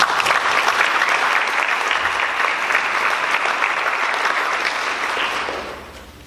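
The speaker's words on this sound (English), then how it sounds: "Can I get another round of applause for these amazing people?" Audience applause at a student candidates' debate, loud dense clapping that holds steady then fades out toward the end.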